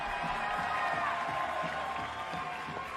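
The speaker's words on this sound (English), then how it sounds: "Big cheer" Crowd at an indoor athletics meeting in Lyon giving a steady, broad murmur of cheering and scattered clapping that fills the arena at moderate distance, with no clear peaks.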